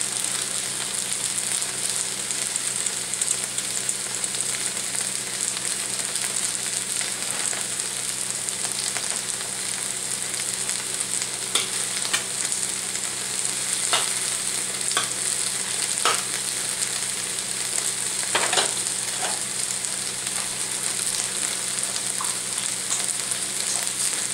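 Aromatics sizzling in a pan while cooking for fish-fragrant tofu, a steady moderate frying hiss with occasional sharp crackles and stirring taps, with no talking.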